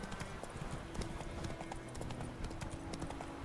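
Horse hooves clip-clop at a rapid, steady galloping rhythm in The Witcher 3, continuous and fairly prominent across the whole stretch, with faint game ambience behind.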